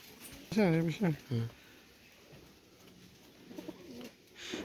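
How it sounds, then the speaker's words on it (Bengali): Teddy pigeons coo in a few close, throaty bursts early on, then softer murmurs and rustling follow, with light background noise and a brief stir near the end. "এই যে এক সেট টেডি কবুতর দেখাচ্ছি, 41 নম্বর টেডি, টপ ক্লাস কবুতর"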